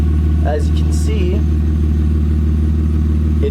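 A BMW 323is sits on jack stands in first gear, its loud exhaust droning steadily while the drive shaft and axles spin, with a constant low engine hum and a brief voice over it.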